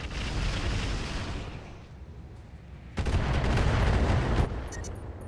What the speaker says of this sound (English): And now the mortar.